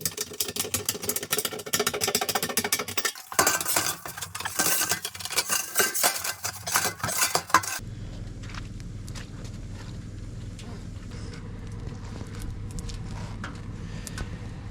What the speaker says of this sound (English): we're gonna install our camp stove